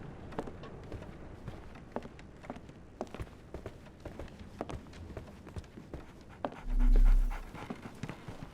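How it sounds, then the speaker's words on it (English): A dog pants steadily and rhythmically at close range, quick breaths repeating throughout, with a brief low thump near the end. "So, Barnes has a dog now."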